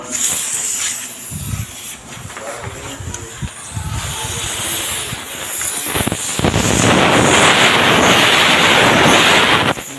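A paint spray gun lays topcoat on a Toyota Vios body panel, its loud, steady hiss of atomized spray starting in bursts, then running continuously with brief pauses.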